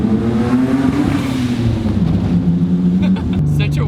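A single-turbo Mitsubishi 3000GT VR4 engine revs loudly up close, with a strong droning tone that rises and falls over a few seconds before easing off.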